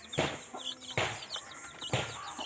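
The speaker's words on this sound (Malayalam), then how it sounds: "ഇതാണ് നമ്മുടെ കുറച്ച് കുഞ്ഞു കോഴിക്കുട്ടികളുണ്ട് കേട്ടോ" Baby chicks peep and cheep in a few bright, short bursts, with some louder calls spaced about a second apart, fairly close and with no voices over them.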